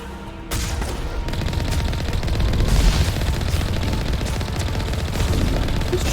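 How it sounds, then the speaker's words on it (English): Sustained, dense gunfire in the video game Mass Effect, with rapid automatic shots hammering close and loud in a continuous fusillade for several seconds after a brief quieter start. "Who's shooting me from the sides?"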